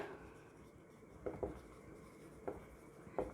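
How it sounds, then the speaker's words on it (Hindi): Chalk or pen strokes on a board as a definition is written during a chemistry lesson, a few separate taps and scratches spaced irregularly over a quiet room background. "इसकी डेफिनेशन हम लिख लेते हैं"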